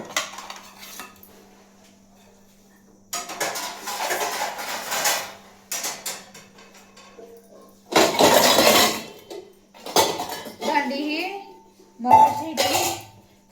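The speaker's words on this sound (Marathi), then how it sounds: "आता मला भांडे वगैरे लावून स्वयंपाक करायचा आहे आता भांडे लावून घेतली" Cooking pots, dishes and steel utensils clink, clatter and scrape in short bursts in a home kitchen, with quiet gaps between handlings and some talk and coughing mixed in.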